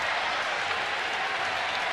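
A crowd at a baseball stadium, during an Orioles versus Yankees game in Baltimore, applauds and cheers in a dense, steady wash of clapping that holds at an even level throughout.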